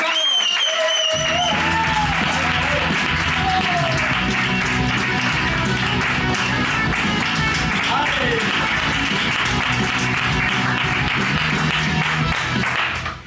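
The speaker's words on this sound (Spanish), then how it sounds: "un fortísimo aplauso para Julia Casado" A studio audience gives a loud, sustained round of applause for Julia Casado, with cheers and shouts mixed in, after a brief voice at the start.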